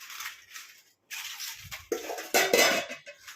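A plate set down over fish wrapped in banana leaf, with several light clattering knocks and scrapes of dishware, close and fairly quiet.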